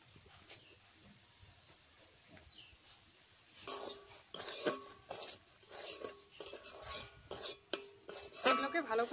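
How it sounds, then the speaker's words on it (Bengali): Semolina fried in ghee in a wok and stirred steadily, with repeated metallic scrapes and clinks of a spoon against the pan over a soft sizzle, quiet at first and then busy and fairly close. "ওই ঘিয়ে আমি সুজিগুলোকে ভেজে নিচ্ছি।"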